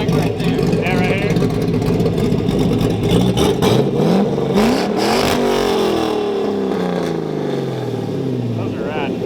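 A car engine revs hard through a stock car exhaust, rising and falling in loud, close bursts with pitch sweeping up and down, while people talk over it.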